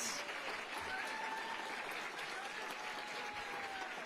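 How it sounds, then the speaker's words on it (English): At a governor's annual awards ceremony, the crowd applauds a registered nurse named State Employee of the Year. The clapping is steady but distant and fairly faint, with a few voices mixed in. "Let's give her a round of applause."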